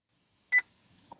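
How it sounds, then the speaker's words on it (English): A Vauxhall Corsa D dashboard gives a single short, clean electronic beep on entering its hidden menu, brief and alone in near silence, followed by a faint click. "And now, after a few seconds, we hear a beep."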